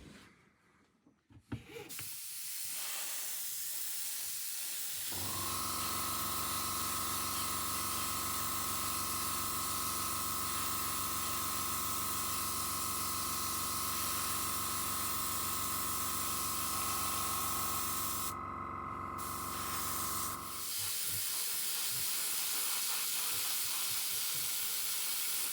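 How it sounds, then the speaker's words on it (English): Close, continuous airbrush hiss while spraying Vallejo paint over a model railway layout, running steadily for about fifteen seconds and then cut off, with small clicks and handling noise before and after. "what I'm going to use is some of my Vallejo airbrush paint in my airbrush and just dust it each side to give it that dark shade"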